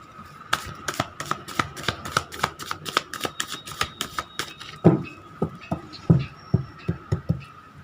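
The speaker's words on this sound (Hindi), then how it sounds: "कार्ड को अच्छी तरह से मिक्स कर लेती हूँ आपके सामने।" A deck of tarot cards is shuffled by hand up close, a quick run of crisp, rhythmic riffling snaps and taps, with a couple of heavier soft thumps near the end.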